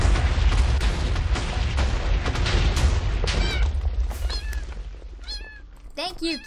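Cats meow in a Minecraft party-game server match. Loud booming game effects and talking come first, then several distinct, close meows rise clearly near the end.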